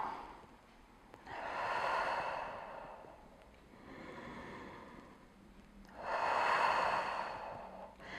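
Slow, deep breaths come and go during a yoga lunge stretch, three long airy exhalations rising and falling close by, each several seconds long.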